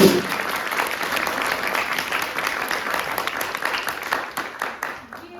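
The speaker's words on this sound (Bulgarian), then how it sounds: "Аплодисменти!" Audience at a show applauding, a dense, sustained wash of clapping from a crowd that fills the space and fades toward the end.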